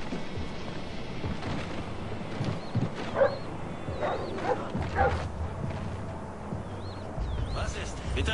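A dog barks in the Splinter Cell: Blacklist video game, a few short barks and yips spaced out over game ambience, moderately faint, with a voice talking at times.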